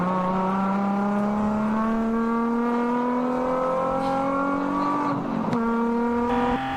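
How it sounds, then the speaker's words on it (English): On-board engine note of a Nissan Z race car in an endurance race at a Joliet circuit, a loud sustained drone climbing steadily in pitch through the gears, with a quick shift and a rough burst near the end. "You can hear that from that engine note."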